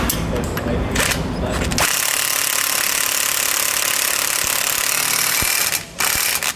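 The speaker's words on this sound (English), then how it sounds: "We can now go back and tighten down our bolts." Bolts being tightened on a Roadmaster rear anti-sway bar fitted to a 2016 Thor Miramar motorhome, heard as a loud, steady mechanical ratcheting and power-tool whirr that runs almost without pause through the clip.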